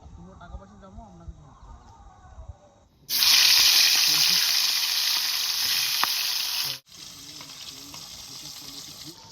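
Bhetki fish fries in hot oil at a riverside cooking spot in the Sundarbans, a loud steady sizzle that cuts in sharply after faint background sounds and settles slightly quieter near the end.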